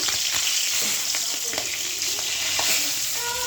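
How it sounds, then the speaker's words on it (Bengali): Fish frying in hot oil in a wok gives a steady, close sizzle and crackle with a few sharper pops and the occasional stir, with no talking. "দেখুন, মাছটা ভাজা হয়ে গেছে"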